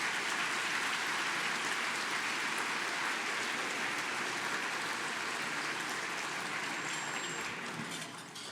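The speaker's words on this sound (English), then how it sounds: "Ladies and gentlemen, how about a round of applause" A seated audience at a town event in Oro Valley claps in a dense, even wash of applause that holds steady for several seconds and eases slightly at the end, with no talking over it.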